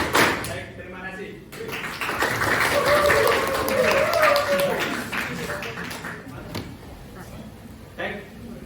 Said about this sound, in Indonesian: Silakan tepuk tangan 1 kali, 2 kali, 3 kali